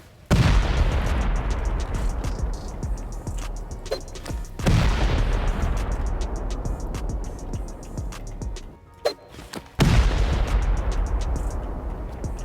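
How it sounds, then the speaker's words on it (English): C4 charges detonate against a cave base in a survival video game, with three heavy booms spread across the stretch, each followed by a rumbling tail and crackling debris. "I'm going to show you how it might look from a raider's perspective, hitting this thing using only C4"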